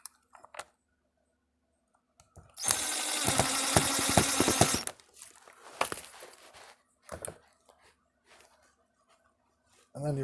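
A small screw is driven into a joystick microswitch while swapping the switch: a burst of about two seconds of dense, rattling screwdriver or driver noise, followed by a few short taps and clicks in an otherwise quiet room.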